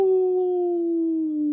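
A single voice imitates a coyote howl, one long sustained tone that slowly drops in pitch.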